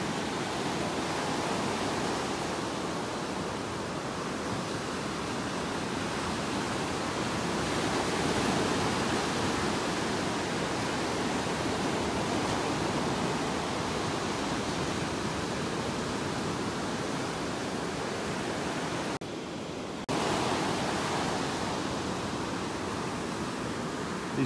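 Continuous broadband roar of ocean surf breaking on a beach in North Naples, Florida, a steady wash of waves with no pauses and only a brief dip in level near the end, no voices present.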